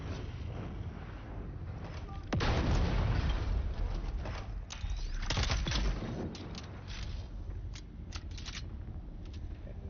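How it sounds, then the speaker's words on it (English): A grenade goes off in the video game Dune Awakening, one heavy blast followed by a few lighter crackling bursts and debris, fairly loud against a low game backdrop. "Grenade behind me."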